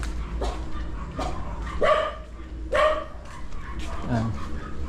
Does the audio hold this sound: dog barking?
yes